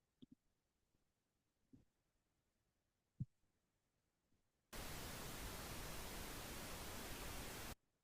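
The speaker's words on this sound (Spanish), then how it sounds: "ahora escuchamos el ruido rosa y van a ver que es parecido" A pink noise test signal plays as a steady, dense broadband hiss for about three seconds, starting and stopping abruptly after a few faint soft thumps in near silence.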